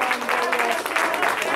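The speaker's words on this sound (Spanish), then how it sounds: "dale un aplauso al rey." Worship group congregation applauding steadily throughout, a dense, even wash of clapping with no voices standing out.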